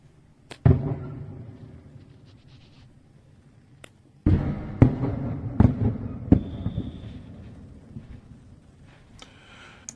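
Several sharp blasts ring out at a distance in wartime Ukraine, one near the start and a cluster of cracking bangs midway, each trailing a low rumbling echo.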